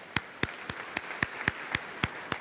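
Church congregation clapping in slow, even unison, about nine sharp claps roughly a quarter second apart, ringing in a reverberant hall with no talk over them.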